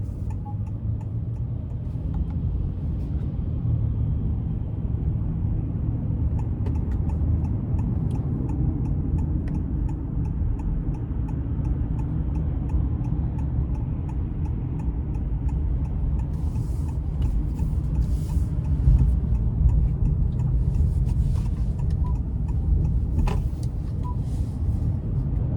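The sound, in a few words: 2026 Honda Passport driving in sport mode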